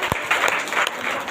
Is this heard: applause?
yes